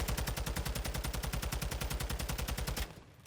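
Rapid automatic fire from a TAQ-56 rifle in a video game, a continuous loud string of evenly spaced shots lasting nearly three seconds before cutting off into a brief fading tail, during a recoil test at 20 meters.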